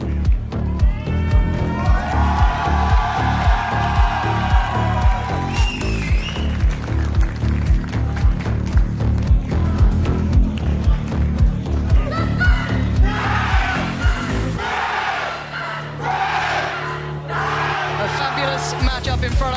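Esports arena crowd at a VCT EMEA Valorant match between Karmine Corp and Gentle Mates cheers and yells loudly and continuously, a dense roar with whoops and rhythmic chanting, under excited caster talk.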